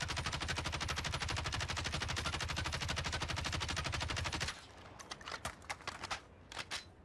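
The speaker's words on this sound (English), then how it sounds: "So we'll look at the normal recoil pattern for 60 bullets with this" Rapid automatic rifle fire in the Warzone video game, a sustained loud burst of about four and a half seconds emptying the magazine, followed by scattered single shots and mechanical clatter, with no voices.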